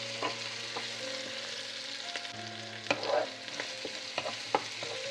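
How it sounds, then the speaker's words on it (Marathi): Sliced onions and green chilies fry in a hot pan until brown, the base for a mushroom tikka masala. A steady, close sizzle carries sharp scraping clicks as a spoon stirs. "आनी हेका आतां ब्रावन जायसर ऑनियनां फ्राय करता हांव."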